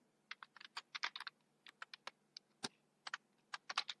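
Typing on a computer keyboard gives crisp, distinct key taps, close and clear, in uneven bursts and single strokes separated by brief gaps over a quiet background.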